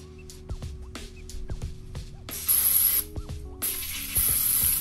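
Ratchet wrench clicking as the front wheel hub nut comes off a 1997-2003 two-wheel-drive Ford F-150, with bursts of quick ratcheting and a louder spray-like hiss in places, close and without talk.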